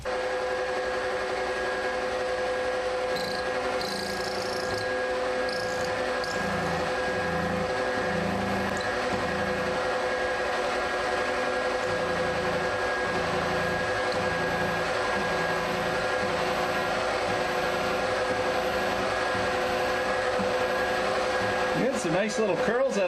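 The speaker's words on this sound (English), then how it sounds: "we're going to give this a try with a carbide burr" A die grinder with a carbide burr grinds out a broken tap, a steady high-pitched motor whine that holds for the whole stretch, with faint scraping under it.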